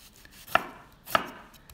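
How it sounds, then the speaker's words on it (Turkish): A knife chops half a dry onion finely on a cutting board, two crisp, sharp strikes about half a second apart, close and clear in a quiet kitchen. "Yarım kuru soğanı ince ince doğruyoruz."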